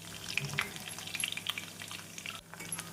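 Onions frying in a pan with a spoonful of ginger garlic paste for a banana flower curry, giving a steady close sizzle with brief stirring scrapes and crackles throughout.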